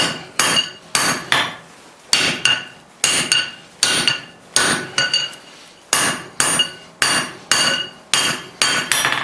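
Hammer blows ring on a 3/4 inch square steel bar while forging bolt jaw tongs, a steady run of sharp, loud metallic strikes in quick pairs and groups, each with a short ringing decay and brief pauses between them.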